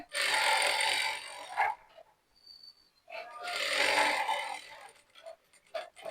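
A sewing machine stitches along a folded fabric edge in two sustained whirring runs, separated by a short pause, with a few brief mechanical taps near the end.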